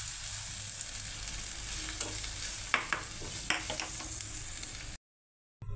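Ginger paste and red chili powder frying in oil in a pan, a steady close sizzle with a few spatula scrapes and clicks in the middle, ending suddenly after a short silence; no voices.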